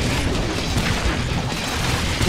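Explosions rumble and boom in the video game Orcs Must Die 2, a dense, continuous roar of blasts and crashing mechanisms that fills the whole stretch at steady loudness.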